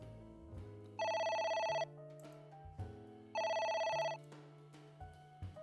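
Telephone ringing in the video game AI: The Somnium Files, two bright electronic ring bursts separated by a pause, over soft in-game background music, with no talking.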